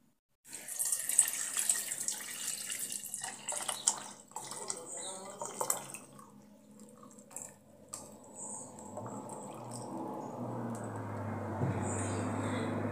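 A liter of water poured into a small pot holding chopped apple and chamomile for tea, a clattering start giving way to a steady rushing pour that builds toward the end, with someone talking over it.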